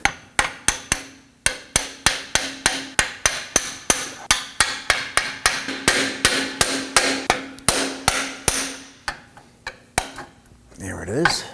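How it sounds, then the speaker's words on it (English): A hammer strikes a metal fork tool over and over to pop the front left CV axle loose on a 2018-2024 Toyota Camry 2.5L four-cylinder, a fast, steady run of loud, close, ringing metal blows, then a brief scraping rattle. "Now with the axle pulled out a little bit, we're going to use our fork here."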